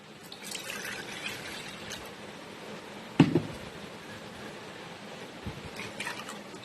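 Rice water, about 400 to 450 ml, poured into a saucepan: a quiet trickle with scattered drips and one sharper splash near the middle, close and alone in a calm kitchen.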